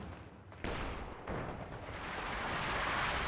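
An artillery barrage in a real-time strategy video game rumbles as a continuous, dense roar of explosions building steadily louder, with sharp onsets near the start.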